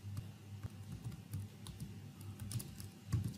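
Quiet typing on a computer keyboard, a steady run of soft key clicks with a few sharper taps, close and alone without any talk.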